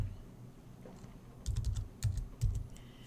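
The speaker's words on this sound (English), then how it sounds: "I've clicked in the space and I'm going to type in 3321." Computer keyboard typing of a four-digit code into a Gmail sign-up field, a few quiet clicks followed by three distinct, closer keystroke clusters.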